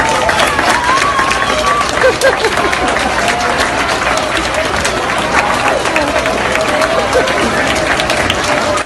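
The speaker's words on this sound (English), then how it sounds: "the soldier and his brother receive cheers and applause from all the students" Students in a crowd cheer and applaud a returning soldier and his brother, dense sustained clapping with shouts and excited voices filling the space throughout.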